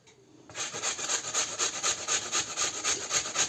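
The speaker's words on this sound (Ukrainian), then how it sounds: "Тепер беремо оде 4 картоплі, будемо натирати її на ось таку терку дрібну від моркви." Potatoes are grated by hand on a fine carrot grater, a close, rhythmic rasping scrape repeated in quick, even strokes about four times per second, without talk.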